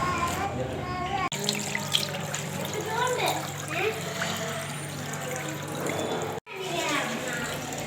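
Tap water runs steadily while someone washes their hands at a sink in a children's play land, a broad continuous wash of sound with lively voices and background chatter throughout.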